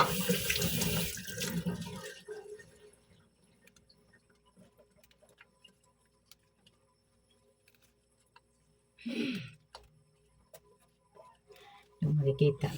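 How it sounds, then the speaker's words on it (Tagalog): Vegetables are rinsed under a running tap in a sink, with a loud rush of water at the start and short splashes later, with quieter kitchen clatter and ticks in between. "hugasan natin to para malinis yung ating gulay"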